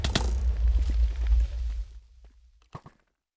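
An explosion in Minecraft survival mode: a deep, loud boom with a rumbling tail that fades over about two seconds, followed by a few faint clicks and one short knock.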